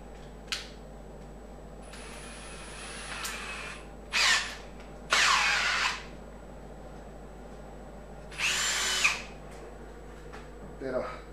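A drill bit bites into a workpiece on a home-made lathe in short whirring bursts of about a second each, separated by pauses with a steady low motor hum underneath.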